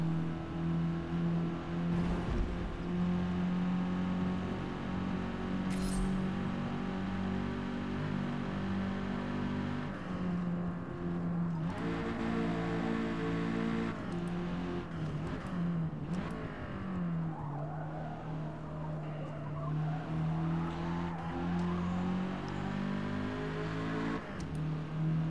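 An Alfa Romeo 4C lapping the Nürburgring, its engine droning steadily from inside the car as it rises and falls through corners, with brief tyre squeal in places.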